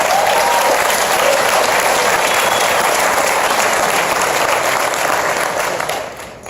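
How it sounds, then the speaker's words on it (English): A large conference audience at Inman Connect 2017 gives a group a loud, sustained round of applause, a thick continuous roar of clapping that holds steady for about six seconds before tapering off. "Let's give that group a big round of applause."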